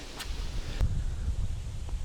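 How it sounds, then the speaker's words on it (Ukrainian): Wind gusts across an outdoor fishing spot during stormy weather, a steady low broadband rumble buffeting the microphone with faint rustling, slowly easing off. "вітер стихає потихеньку"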